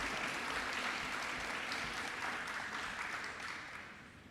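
Applause at a high school winter athletic awards ceremony, a dense crowd clapping steadily before tapering off at the end.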